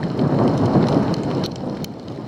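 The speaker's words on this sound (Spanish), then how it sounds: "¿Trueno?" A rainstorm on the Annapurna Circuit trek, with a dense wash of heavy rain and a low rolling rumble of thunder beneath it, loud and steady and slowly easing over a couple of seconds.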